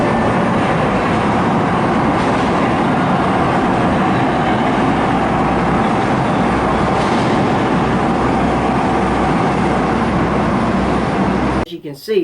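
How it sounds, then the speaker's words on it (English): Steady loud rumble and rattle of the Harry Potter themed train ride at Universal Studios Orlando, running continuously through tunnels from Hogsmeade, with murmured talk underneath; the noise cuts off sharply near the end. "it's a ride, is the Harry Potter train, in which you'll leave Hogsmeade and go through the tunnels"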